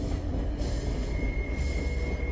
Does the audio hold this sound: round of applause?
no